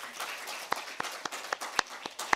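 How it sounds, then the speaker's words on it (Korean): Sparse, scattered hand claps from a small audience at a seminar session of a forum in Jeju, a handful of separate sharp claps spread unevenly rather than full applause, fairly faint in a quiet hall. "토론자분들께 큰 박수 부탁드립니다"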